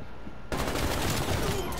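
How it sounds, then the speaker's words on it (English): An LC-10 submachine gun fires in a video game, breaking in abruptly as one loud, continuous rapid burst that lasts to the end. "Bloodthirsty with the LC-10 submachine gun"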